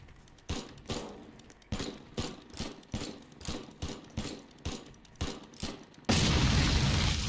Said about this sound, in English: Where did my explosion go?